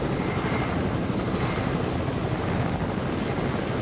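A helicopter in a video game drones with a steady, dense rotor and engine roar that holds at an even level throughout, close and loud with nothing else on top.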